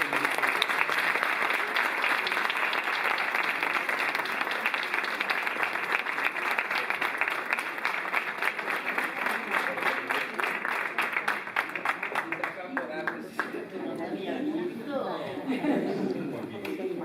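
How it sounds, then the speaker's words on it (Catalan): Sustained applause from an audience at a round-table talk in a civic centre, dense steady clapping for most of the time, thinning near the end as voices and chatter come through. "Un aplaudiment per ella."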